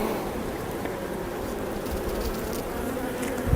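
Honey bees buzz steadily at an open Demaree-manipulated hive during an inspection, a dense, continuous drone close to the listener with no break, nearby wingbeats rising slightly toward the end.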